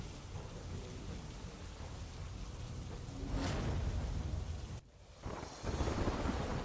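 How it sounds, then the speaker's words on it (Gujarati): Heavy monsoon rain pours steadily in Modasa with thunder rumbling through it, one louder crack swelling midway, followed by a brief lull and then renewed downpour. "ગાજવીજ સાથે મોડાસામાં વરસાદ વરસ્યો"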